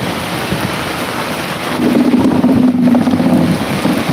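Heavy rain pours down in a dense, steady roar, growing louder partway through, with a low droning hum underneath and no talking.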